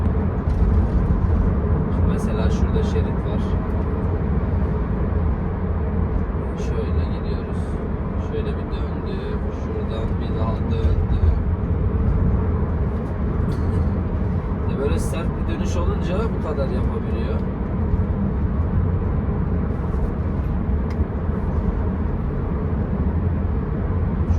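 A Volkswagen Caddy van drives and turns, its engine and road noise forming a steady low cabin drone throughout while someone talks over it.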